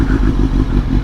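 A Suzuki GSX-S 750 motorcycle with a quickshifter out on a road ride gives a steady, loud, low engine drone with wind rumble, continuous and close throughout.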